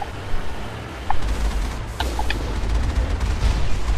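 Rocket fire and explosions from the Mako vehicle in the Mass Effect video game, on Virmire: a steady rumbling barrage with a few sharp blasts and engine drone, loud and continuous throughout.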